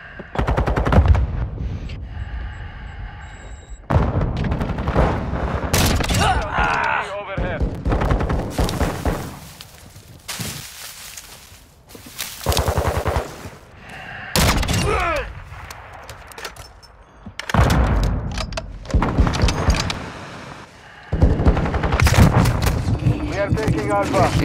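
Rapid automatic gunfire bursts and single shots from the video game Modern Warfare 2 in a multiplayer flag match, loud and dense, alternating with short pauses, with voices talking over parts of it.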